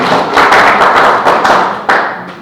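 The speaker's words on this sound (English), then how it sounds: "Clap for the very good panelists we have here also." A conference audience applauds the panelists, a loud, steady wash of many hands clapping with a few sharper bursts rising out of it.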